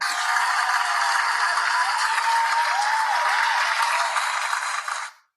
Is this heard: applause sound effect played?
yes